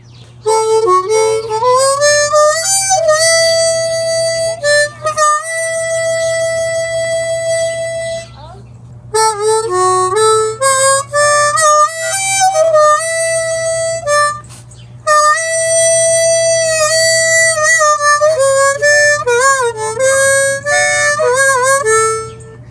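Harmonica playing a riff, with long bending held notes in phrases separated by brief pauses, loud and close over a low steady hum.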